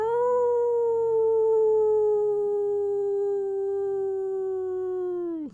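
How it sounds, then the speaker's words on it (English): A single wolf howl, long and smooth, holds one pitch and slowly slides lower for over five seconds before breaking off abruptly, heard alone. "you let out your howl"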